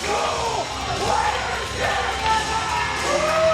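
Wrestling crowd at a live match yelling, whooping and cheering wildly, a dense loud roar of many voices with individual shouts rising above it throughout.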